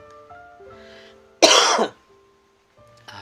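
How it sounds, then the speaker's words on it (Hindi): A single loud, harsh cough bursts out close by, lasting about half a second, with quiet background sounds before and after. "पूरी वीडियो के बाद अब खांसी आ रही है बार बार।"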